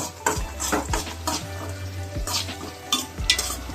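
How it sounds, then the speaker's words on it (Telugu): Green chillies and ginger paste fry in a pan, a soft sizzle under repeated scrapes and clinks of a spoon stirring against the pot, with low musical tones running beneath and no talking. "అల్లం పేస్ట్ వేయాలి. బాగా వేగాలి."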